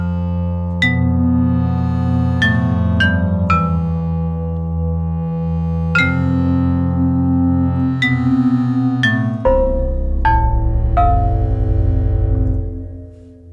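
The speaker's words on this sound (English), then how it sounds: "you hear the glass bottle, and then that's only the beginning of the sound, and the rest is a synthesizer" Glass bottle hits layered with a synthesizer patch made in Ableton's Drift play as a run of bright struck attacks, each sustaining into a steady tonal synth note, in a continuous melodic line with no talk.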